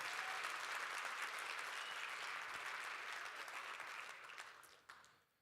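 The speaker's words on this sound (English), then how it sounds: "So give a big round of applause for that significant achievement." Sustained round of applause from a conference audience at a divisional session in Nashville, dense and steady throughout, then thinning and fading out near the end.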